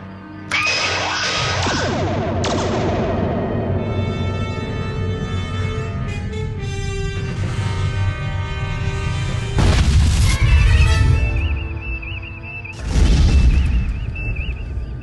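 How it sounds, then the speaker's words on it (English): Sci-fi photon torpedoes fire in a broad spread and explode at close range: a series of heavy booms and blasts with ringing, tonal effects layered on a dense, continuous roar, with two loud bursts near the end. "Photon torpedoes, broadest possible spread. At this range, the blast will impact us as well."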